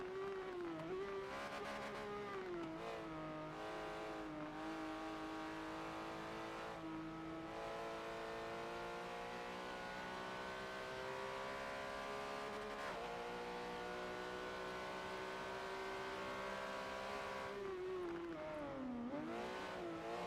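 Race cars in the Forza video game lap the Alps track, a continuous engine drone that rises and falls as it shifts and revs, with tyres squealing at the start and near the end.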